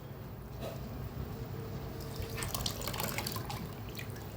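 Water is drained off soaked, washed rice, trickling and dripping quietly up close, then splashing somewhat more busily in the second half.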